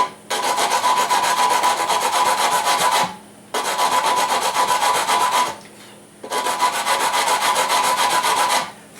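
A hand file rasps across a small wooden shim being rough-shaped for an over-slotted guitar nut, in three sustained strokes with short pauses between them, close and steady.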